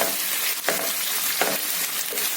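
Sliced medium onions fry in a pan with a steady, close sizzle. Two or three brief scraping stirs cut through the hiss, and there is no talk.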